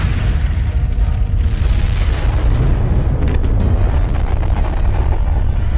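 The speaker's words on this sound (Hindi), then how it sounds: "गोकू अब पूरा जोर लगाकर कामेहामेहा डार्क सेन के मार देता है और वहां पर काफी जोरदार एनर्जी ब्लास्ट हो जाती है" A Kamehameha energy blast effect from Goku erupts as a loud, sustained explosive roar, a deep rumbling boom that swells and keeps rolling for several seconds.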